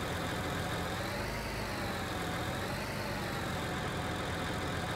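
Tractor engine in Farming Simulator 19, driving up to a trailer: a continuous, even mechanical drone with a slight rise and fall in pitch, close and alone without talk.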